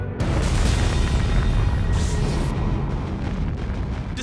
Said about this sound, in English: an Atlas Agena rocket disintegrates in midair